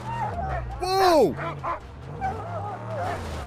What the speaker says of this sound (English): Dog, you sound like someone's trying to kill you.